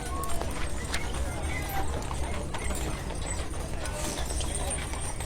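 Horses and mules clip-clop along a street in the Overton County Christmas parade, a steady stream of hoofbeats at moderate distance while an announcer talks over the crowd noise.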